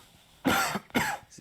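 Two harsh coughs in quick succession, close and fairly loud, with a brief pause between them.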